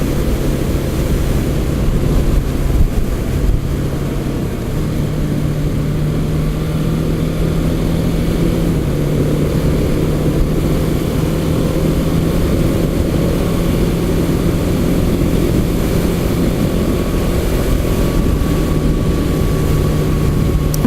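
A KTM motorcycle rides along winding back roads near Julian, its engine a steady, close droning hum with a slight rise and fall in pitch throughout.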